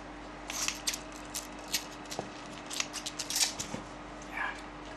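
Scissors snip through tape while a stabbing tip for SCA combat is assembled, giving a series of short, sharp close-up cuts with gaps in between against a quiet room.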